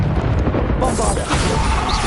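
A Bombarda explosion spell cast in Hogwarts Legacy bursts as a single loud, broad blast that swells partway through and stays dense with noisy rumble until the end.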